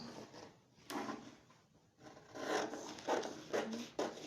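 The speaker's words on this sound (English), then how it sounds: "I'm going to cut it out now" A drafted Victorian corset pattern is cut out, likely paper handled while turning, producing quiet, close, intermittent rustling and crisp snipping scrapes with short pauses between cuts.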